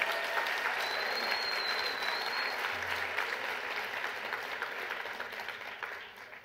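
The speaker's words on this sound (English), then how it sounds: "Give that man a round of applause." An audience applauds a keynote speaker, giving a dense, sustained wash of many hands clapping at an even level that eases slightly toward the end.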